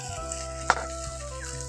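Boiled seeded banana goes into a frying pan of cumin paste for a prawn dish, giving a steady close sizzle with a single sharp clack partway through.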